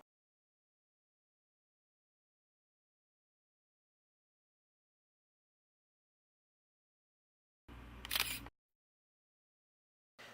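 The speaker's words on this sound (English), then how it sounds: "Press the shutter and take the picture." A Canon EOS 30D digital SLR fires its shutter once in a crisp, close mechanical clack-and-whir amid near silence, with the start of another brief sound at the very end.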